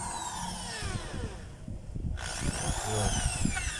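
A power drill runs in forward and then in reverse, with a steady motor whine that drops out briefly and then rises again, close and fairly loud, with no talk over it.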